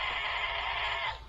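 Goats bleating on a farm in one drawn-out, loud nasal cry of about a second that fades at the end, with no talk over it.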